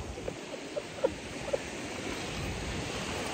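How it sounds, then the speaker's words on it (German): Sea waves washing onto a shore on a cold holiday day near Lisbon; a soft, distant, continuous surf wash with a few faint clicks and thumps, fairly quiet and without talk. "alleine das Geräusch der Wellen"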